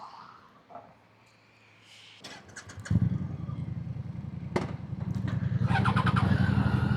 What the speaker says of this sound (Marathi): ही हार्ले डेव्हिडसन फॅट बॉय, ही दुसरी फॅट बॉय.